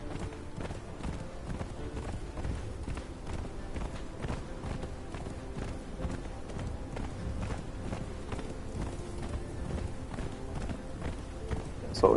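Horse hooves clip-clop in a steady, quick rhythm throughout the Conan Exiles game on the Isle of Siptah, moderately quiet and continuous with no talking, a brief louder bump at the very end.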